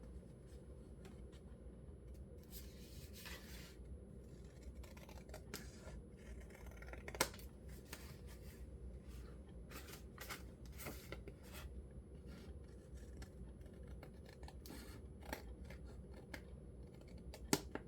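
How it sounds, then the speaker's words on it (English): Scissors cut paper for spring seed pockets in a quiet room, producing soft, repeated snipping and rasping strokes in an irregular rhythm, faint and close, with occasional sharper clicks. "Oh, we might be able to correct this with scissors."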